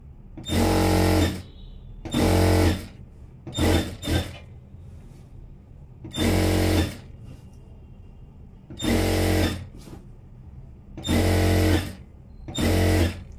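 A sewing machine stitching a churidar runs in short bursts of a second or so, separated by brief pauses, close and steady with no talk.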